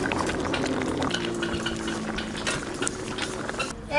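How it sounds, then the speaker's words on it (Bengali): Thin fish and potato curry with desi koi fish bubbling in a pot, a steady close simmering boil with faint clinks under it. "এই ফুটতে চাই, খানিক পরে নামাই দেবো।"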